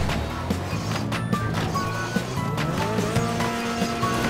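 A car drives in GTA 5, its engine droning and revving steadily up close with short tire squeals over the continuous motor hum.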